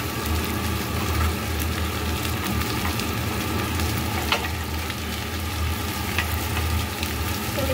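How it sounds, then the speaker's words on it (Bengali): Potatoes frying in hot oil before any tempering is added, a dense continuous sizzle heard up close with a few faint clinks, no voices. "তো আমি এরপর আলুগুলোকে দিয়ে দিচ্ছি। আমি কিন্তু এখনও ফোড়ন দিইনি, আগে ফ্রাইটা করে নিই"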